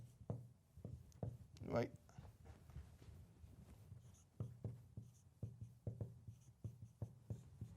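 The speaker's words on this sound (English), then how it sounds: "So I'm going to write out these Roman numerals." Marker or pen strokes writing out Roman numerals on a board, a string of short taps and scratches at close range, interleaved with a man's speech.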